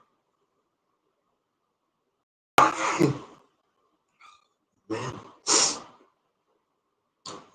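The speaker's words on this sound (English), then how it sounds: "really surprising these sneezes" Several sharp sneezes close by, separated by quiet pauses, with a soft breath and a brief word from a man in between.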